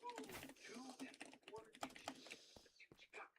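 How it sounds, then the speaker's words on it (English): Quiet, close clatter of computer keyboard typing while chatting during a FaeWilds gaming session. Irregular bursts of keystrokes mix with soft murmured voices and faint background game sound. "I'm typing in chat."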